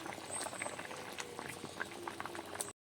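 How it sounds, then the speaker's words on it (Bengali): Pond fish and crab curry bubbles in a covered pot, a continuous quiet boiling with small pops and gurgles that ends abruptly. "ঢাকা দিয়ে বেশ কিছুক্ষণ ফুটিয়ে নিয়েছি।"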